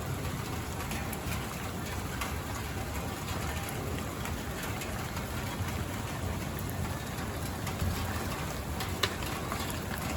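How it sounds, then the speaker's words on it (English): Hail falls during a severe thunderstorm, a dense, steady, hissing patter of pelting ice across surfaces, constant and close for the whole stretch with a few sharper impacts. "And here comes the hail."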